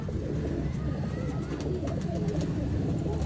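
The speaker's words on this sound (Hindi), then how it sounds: "ये रहा दोस्तों कबूतर।" Soft pigeon cooing over a busy, noisy background, low throaty coos with faint chirps scattered through.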